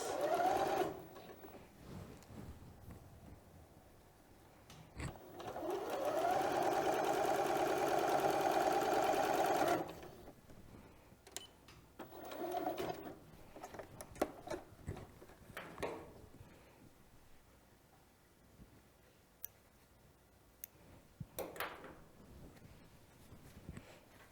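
Sewing machine stitching a homemade fabric face mask, running in one steady loud burst of about four seconds, with quieter handling clicks and rustles of fabric before and after.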